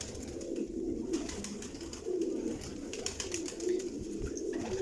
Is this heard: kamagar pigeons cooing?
yes